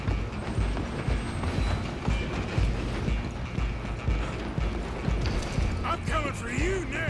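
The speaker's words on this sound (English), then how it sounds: "I'm gonna have you stop the train!" A train rolls along in the Red Dead Redemption 2 video game, with continuous rumbling and rhythmic clickety-clack of wheels and rattling cars, while voices speak over it and a brief whistling tone sounds near the end.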